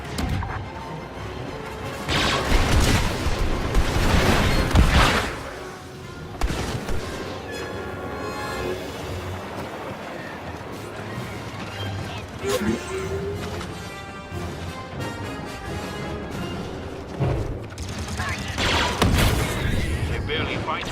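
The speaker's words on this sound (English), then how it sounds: "Transport preparing to fire at the palace." An MTT transport fires blasters and sets off explosions in the Star Wars Battlefront 2 multiplayer video game. Heavy crashing bursts land early and again near the end, with a denser battle din rumbling between them.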